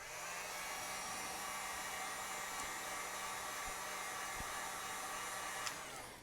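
A heat gun blows hot air onto the adhesive of a Samsung Galaxy Note 3 back panel, a steady, fairly faint whooshing hum with a low tone that runs evenly throughout, with a couple of small clicks.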